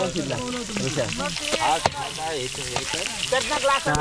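Chicken frying on a clay roof tile over a village cooking fire, a steady sizzle with stirring scrapes, heard under lively continuous talk in Marathi.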